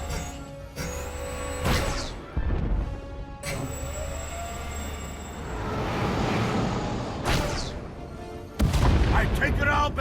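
Heavy ship cannon fire in The Old Republic game: several loud booming blasts with broadband bursts, spaced irregularly over a steady rumbling engine drone, with voices talking in between.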